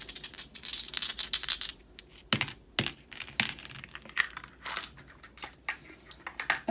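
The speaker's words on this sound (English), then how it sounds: "And we're rolling 3 dice for you today." Three dice roll and tumble on a hard surface, making a quick burst of dense clicks followed by scattered knocks and rattles as they settle, close and fairly quiet.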